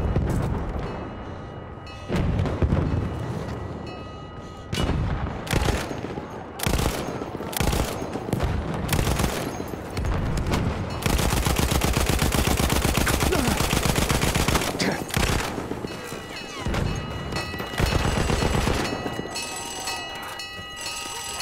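An enemy artillery barrage in Battlefield 1 pounds on and on with loud, overlapping blasts and rattling gunfire, a dense and chaotic bombardment with dull thuds and sharp cracks at irregular intervals.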